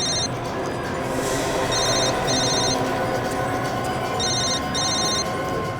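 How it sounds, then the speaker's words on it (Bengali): A telephone rings for an incoming call, with repeated bursts of bright electronic trilling in short regular pairs over a dense, busy dramatic music bed, fairly loud and continuous. "স্যার এ তো মহেশই ফোন করছে স্যার"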